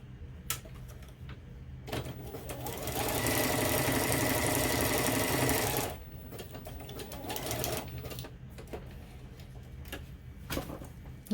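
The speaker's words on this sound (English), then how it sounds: "Give that a quick zip on the sewing machine here." A sewing machine whirs in a steady, buzzing run of stitching for a few seconds, with quieter handling clatter before and after.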